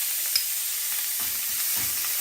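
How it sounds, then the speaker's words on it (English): Taco filling fries in a small amount of hot oil, giving a steady close sizzle and hiss with soft stirring scrapes that pulse through the crackle. "I've got very little oil here, which is already ready and frying away."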